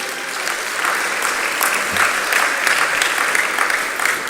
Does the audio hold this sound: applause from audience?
yes